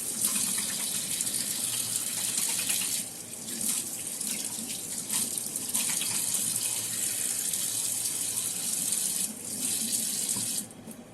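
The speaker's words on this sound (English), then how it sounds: "let's turn on the water" Tap water runs steadily into a sink in a continuous broadband gush with small fluctuations, close and fairly loud, with no voices.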